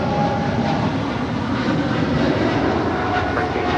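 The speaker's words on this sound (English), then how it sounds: "It's China Cargo Airlines 230 departing to Shenzhen on a 777 freighter." A China Cargo Airlines Boeing 777 freighter departs Los Angeles International Airport, its jet engines a steady, loud broadband roar that holds constant throughout with no talk.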